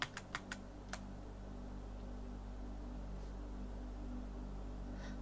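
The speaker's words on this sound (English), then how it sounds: "do you want to see what I'm typing or just hear me typing?" Typing on a computer keyboard close to an ASMR microphone: a quick handful of soft key taps at the start, then only a faint steady hiss.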